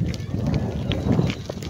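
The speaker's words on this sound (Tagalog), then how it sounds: "Masyadong mahangin." Strong wind buffets the microphone on a beach baywalk, a loud, continuous low rumble with gusty surges throughout.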